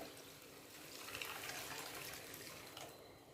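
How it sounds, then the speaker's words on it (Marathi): Water is poured into a bowl of washed sago and barnyard millet set to soak for fasting dosas, a soft, steady pour that stays faint throughout. "आता यामध्ये पाणी घालायचं"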